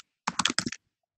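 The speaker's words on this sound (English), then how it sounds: "Whoever's got their mic on and is typing, turn your friggin' mic off." Keyboard typing picked up by an open microphone during an online working-group meeting: a quick burst of about six close, crisp key clicks, then silence.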